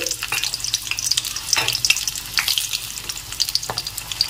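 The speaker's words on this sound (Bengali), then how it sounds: "পেঁয়াজটাকে ভালো করে ভেজে নিচ্ছি" Two chopped onions fry in hot oil for a Bengali chicken curry, giving a close, continuous crackling sizzle broken by bursts of stirring.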